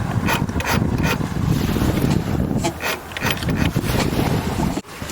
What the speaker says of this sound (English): Now we are turning the engine over.